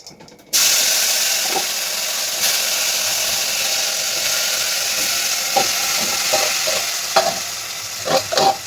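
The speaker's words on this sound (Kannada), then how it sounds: "ಇದು ಫುಲ್ಲು ಫ್ರೈ ಆಗ್ಬೇಕು." Vegetables for a veg dum biryani fry in oil in a pan, a steady loud sizzle starting abruptly and holding throughout, with occasional soft stirring clicks and scrapes.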